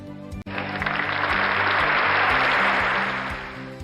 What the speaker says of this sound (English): A round of applause for our special contributor